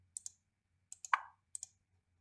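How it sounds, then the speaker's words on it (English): Computer mouse clicks, crisp and close, arriving in quick pairs: three double-click bursts spaced evenly with silence between, one slightly louder and ringing. "Left click, right click."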